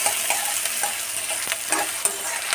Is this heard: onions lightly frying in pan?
yes